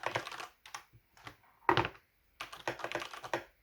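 Typing on a mechanical keyboard tuned for deeper acoustics, with close, soft, thocky keystrokes in short bursts separated by brief pauses.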